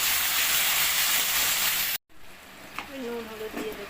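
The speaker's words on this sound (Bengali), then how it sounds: "কুমড়ো আলু কাঁচা লঙ্কাগুলো দিয়ে ভেজে নেব হালকা করে।" Pumpkin, potato and green chillies fry lightly in a pan with a loud, dense sizzle that cuts off abruptly, then returns quieter with stirring scrapes and a faint voice underneath.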